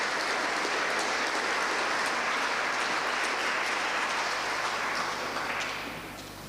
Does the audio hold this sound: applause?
yes